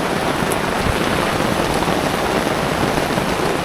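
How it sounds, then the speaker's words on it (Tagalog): Heavy rain drums steadily on a tent close by, with wind, a dense, unbroken roar with no voices. "Sobrang lakas ng ulan, tas mahangin."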